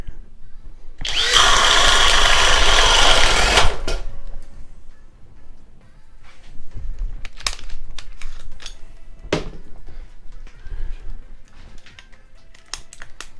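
A power drill spins a 1.5 inch stinger bit with a loud, steady whir lasting about three seconds, followed by scattered clicks, knocks and handling noises of the tool.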